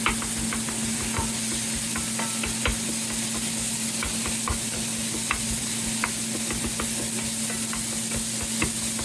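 Steady close sizzling of ground beef frying in a pan, with scattered sharp scraping and tapping sounds as a beef chopping tool chops through it.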